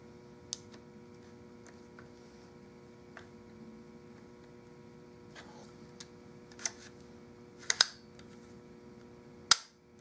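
A rifle with a repaired broken-wrist stock is dry-fired once to test the trigger, giving a single sharp, close click near the end after a few faint ticks, over a steady electrical hum.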